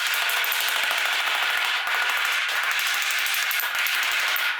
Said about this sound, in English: the hammer is actually hitting the dolly right there.